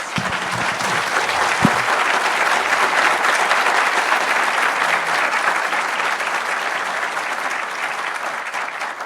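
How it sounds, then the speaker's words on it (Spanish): Applause from an audience at a panel discussion on pandemic measures, a dense, steady wash of many clapping hands that holds at full strength throughout with no talk over it. "el público se me adelantó al aplauso que yo quería pedir"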